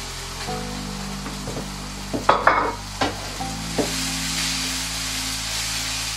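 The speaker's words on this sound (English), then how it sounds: "So you give it a good stir. And then to that, you add the potatoes." Potatoes that were fried earlier are stirred in a pan with little oil, giving a steady sizzle with a low hum behind it and a few clear spoon scrapes and knocks in the middle.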